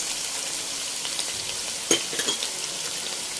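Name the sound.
sauces added to sizzling minced beef in pan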